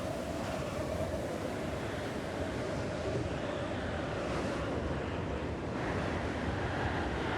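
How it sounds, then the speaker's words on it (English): A steady gusty wind roars through a winter storm in the zombie survival game Project Zomboid, a continuous broad rushing that swells slightly now and then, with no voices. "Wow, it is windy."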